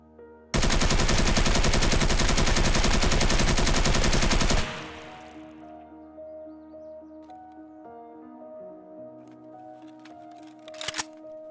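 An unmodded AK-74 rips through one loud, sustained burst of automatic fire lasting about four seconds in Escape From Tarkov, fired from a crouch. It cuts off into quieter ringing and mechanical rattles, with no voices.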